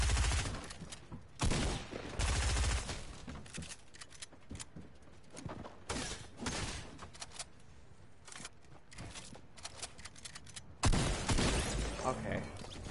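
A video game battle with repeated gunshots and rattling bursts, some close and punchy, others quicker and lighter, along with clattering mechanical sounds.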